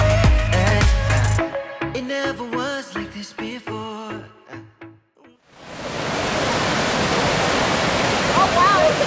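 Waterfall at YS Falls in Jamaica, a loud continuous broadband roar of rushing water filling the second half, following a stretch of singing and music.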